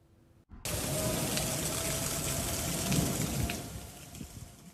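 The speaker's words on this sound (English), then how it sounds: "That storm brought heavy rain, strong winds, and hail" Heavy rain pours down during a spring thunderstorm in South Alabama, a loud, dense, continuous hiss that starts abruptly and holds steady, easing slightly toward the end, with no voices.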